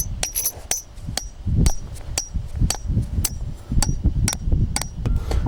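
Repeated sharp metallic hammer strikes driving a bolt in, at an uneven rhythm, close and loud, with clanging ringing over a low background.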